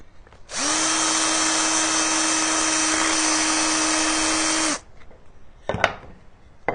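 A handheld drill drives a screw into wood in one sustained, loud, close whine lasting about four seconds, followed by a couple of short clicks and knocks.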